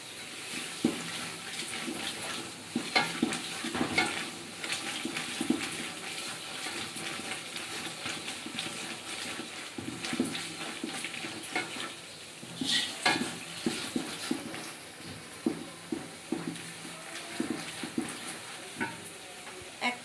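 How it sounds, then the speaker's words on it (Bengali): Homemade roast spice masala stir-fried in a pan for morog polao, with a steady soft sizzle under repeated scraping and stirring strokes from a spoon, close and fairly quiet throughout. "মশলাটাকে ভালো করে কষিয়ে নিব।"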